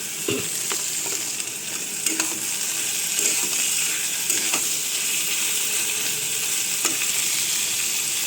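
Chicken frying with golden-brown onions in a pan for egg chicken fried rice. A loud, steady sizzle runs throughout, broken by occasional clicks and scrapes of stirring, with no talking.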